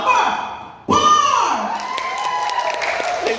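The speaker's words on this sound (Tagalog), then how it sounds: "May sigaw pa." A loud crowd at a comedy contest for contestants called Mr. Pogi in the Philippines shouts and cheers, with a burst of yelling and whoops swelling into sustained cheering close by.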